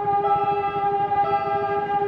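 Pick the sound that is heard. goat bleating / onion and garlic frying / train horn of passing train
train horn of passing train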